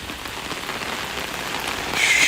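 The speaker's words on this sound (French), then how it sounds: "C'est une fausse pluie dans un studio." Artificial rain pours in a studio, a dense close patter of drops hissing steadily on surfaces and swelling slightly louder toward the end.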